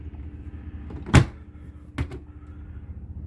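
Two short knocks from a medicine cabinet door inside a Marathon bus being shut or opened, a sharp bump followed by a lighter one about a second later, over quiet room hum.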